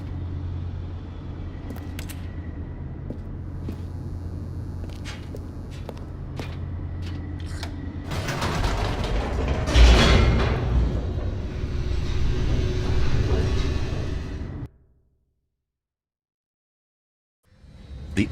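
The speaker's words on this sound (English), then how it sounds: "The elevator raced downward, plummeting towards an unknown fate." An elevator descends in The Stanley Parable video game, giving a low steady hum that swells into a loud rushing rumble with a heavy thud near the middle, then cuts to silence.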